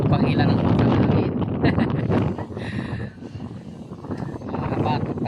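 Strong wind roars loudly across the microphone in gusty waves, easing midway and then rising again, with people talking underneath.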